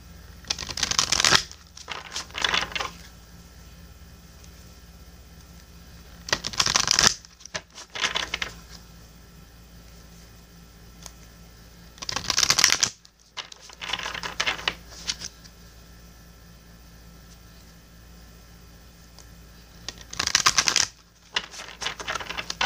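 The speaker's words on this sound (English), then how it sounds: "Let me shuffle for you from the Divine Circus Oracle deck by Elena" Several short bursts of an oracle card deck being shuffled, riffling crisply close by, separated by stretches of quiet room tone.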